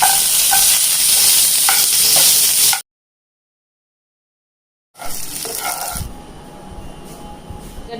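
Oil heating and frying in a wok, a loud close hiss and sizzle with stirring clatter, cut by about two seconds of silence before the sizzling resumes more quietly.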